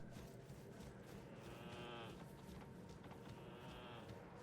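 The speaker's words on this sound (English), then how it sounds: "Goodbye, sheep." Sheep bleating in Elden Ring, several wavering calls over a steady low game ambience, with a faint voice underneath.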